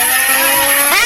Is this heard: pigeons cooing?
no